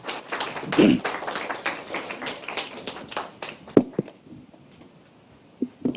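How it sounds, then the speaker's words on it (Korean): An audience at a forum claps to welcome a speaker to the stage: a burst of dense, steady applause that thins out and trails off into a few scattered claps at the end. "여러분 박수로 맞이해 주시기 바랍니다"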